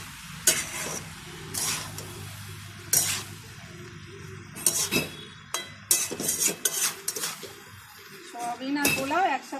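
A metal spatula scrapes and clanks against a wok (kadai) as soya chunks and pulao are stirred. Sharp, irregular strikes ring out over a faint sizzle, with a brief voice near the end.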